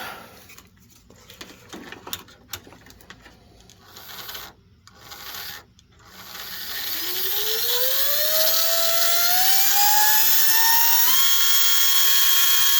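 A Tomy slot car motor on an Aurora AFX 45-ohm controller starts after a few scattered clicks and rubbing noises. Its thin whine climbs steadily in pitch to full RPM and holds there, loud and close.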